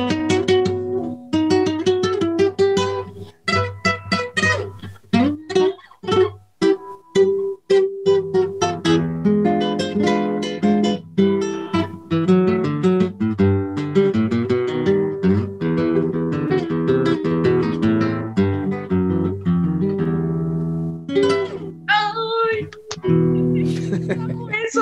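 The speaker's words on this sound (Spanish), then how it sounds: "es una guitarra Oliveras que suena bastante bien y que tiene pino báltico, tiene palisandro y tiene ébano y suena más o menos así" An Oliveras Spanish criolla guitar with a Baltic pine top, rosewood and ebony is played solo and up close for about 25 seconds, with a steady run of plucked notes and strummed chords ringing out.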